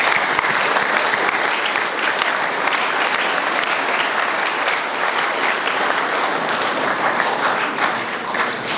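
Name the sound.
applause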